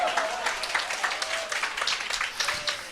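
An audience at a presentation gives a short burst of applause, with uneven, moderately close clapping and a faint voice underneath.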